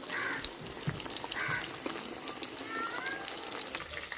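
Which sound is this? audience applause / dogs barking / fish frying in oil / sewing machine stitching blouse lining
fish frying in oil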